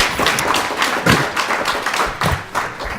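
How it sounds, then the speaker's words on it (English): Audience at a youth forum on gun control clapping, a loose patter of hand claps in a room with uneven bursts and thuds, moderately loud and without voices. "Let's give a round of applause, actually, to them."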